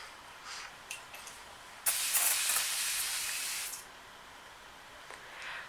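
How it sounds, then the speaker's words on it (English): Avène Eau Thermale water spray mists onto a hand in one steady hiss lasting about two seconds, close and clear. Faint clicks and handling noises come before and after it. "I'll spray my hand first just to see what the spray is like."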